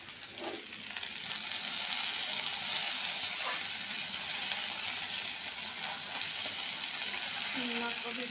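Tomatoes sizzle in a hot pan while cooking potato curry, giving a steady close frying hiss with light stirring scrapes and no talk.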